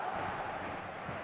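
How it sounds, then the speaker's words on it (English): A dense stadium crowd roars steadily in an eFootball match, a broad continuous wash of massed voices at an even level throughout the brief moment. "the crowd level has gone up a notch or 10"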